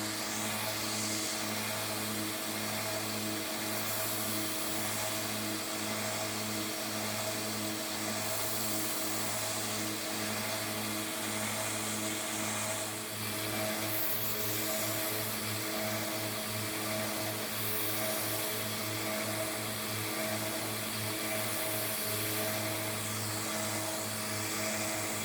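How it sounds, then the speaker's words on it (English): Vintage WW2-era Imperial pocket knife blades are sanded with 400 grit sandpaper, heard as a steady, unbroken motorized drone with a humming whine that continues without pause and without voices. "After I had the blades sanded down to 400 grit"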